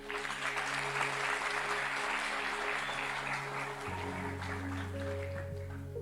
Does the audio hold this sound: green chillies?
no